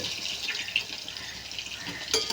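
Meal maker soya chunks frying in oil a small batch at a time, a steady close hiss with faint crackles and a brief sharper sizzle burst near the end, no voices.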